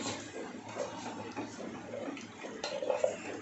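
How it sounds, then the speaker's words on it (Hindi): Ground dal stirred into a pot of lauki dalcha, with a spoon scraping and clinking against the metal pot in steady, close, moderately quiet strokes. "अब हम जो दाल पीस लिए थे अब उसे हम इसमें डाल देते हैं। एक बार अच्छे से मिला लेंगे"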